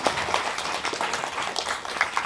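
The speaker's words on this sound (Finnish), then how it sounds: "Otetaan aplodit ihan teille" Audience applause fills a nearly sold-out cinema hall, a dense, steady patter of clapping from many hands that carries on for the whole stretch at moderate loudness.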